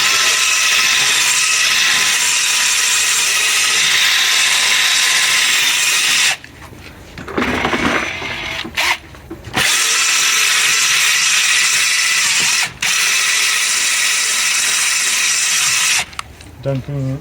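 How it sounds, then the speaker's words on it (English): A loud whirring power drill spinning a scrub brush during car detailing runs continuously, broken by a few short pauses where scrubbing and rustling come through before the motor resumes. "using this drill brush, which comes in handy and saves a lot of time"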